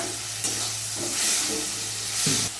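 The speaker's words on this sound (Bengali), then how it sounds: "দিয়ে দেবো হলুদের গুঁড়ো। মশলাটা আমি ভালো করে কষিয়ে নেব।" Spice paste with turmeric powder, cooked for a Bengali bhola fish curry, fries in a pan with a loud continuous sizzle and the scrape of stirring, close and with no talk.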